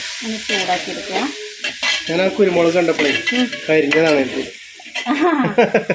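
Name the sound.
chicken masala mix being stirred and heated in a pan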